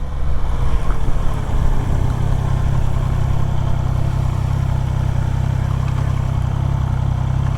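A 2025 Triumph Trident motorcycle riding through city streets, its engine a loud, steady low drone with rushing wind noise throughout and no pauses.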